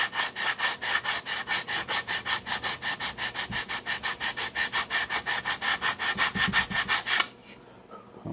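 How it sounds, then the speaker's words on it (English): Rough sanding on balsa wood with worn 60-grit sandpaper: fast, steady back-and-forth scraping strokes, close and loud, repeating evenly for several seconds before stopping abruptly. "I'm rough sanding this with, excuse me, kind of worn out. This is probably 60 grit."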